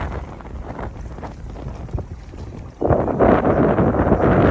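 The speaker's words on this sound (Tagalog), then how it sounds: "Ay, ang lakas ng hangin!" Strong wind buffeting the microphone, a roaring rush that swells sharply louder partway through, with gusty low rumbling.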